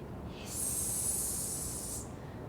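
A snake gives one steady, airy hiss lasting about a second and a half, quiet and close, alone against a faint background.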